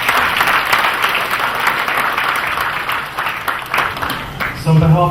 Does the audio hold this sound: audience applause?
yes